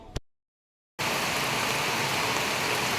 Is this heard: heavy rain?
yes